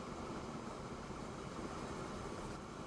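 A long train in the railway game Transport Fever 2 rolls along as a steady, broad rumble with no distinct clacks, faint and continuous, with no voices.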